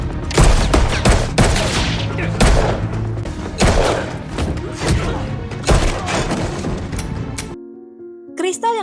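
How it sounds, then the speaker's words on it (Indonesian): Dense gunfire from the 2020 film The Hunt rattles in loud rapid bursts with thuds and booms, mixed under shouting voices, then gives way to a quiet tail with a short musical tone. "Crystal yang sudah tiba di sana langsung menembaki mereka semua."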